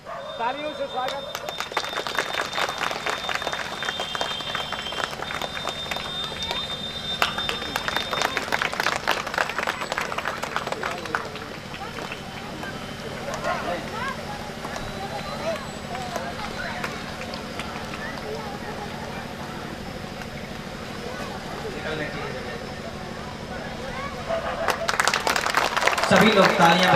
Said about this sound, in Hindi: सभी लोग तालियां बजा करके स्वागत करेंगे।